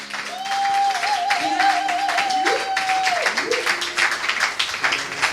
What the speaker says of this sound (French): Acclamons le Seigneur très fort